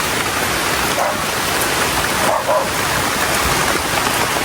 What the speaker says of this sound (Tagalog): Inabot na po kami ng malakas na ulan sa pagtiba po ng saging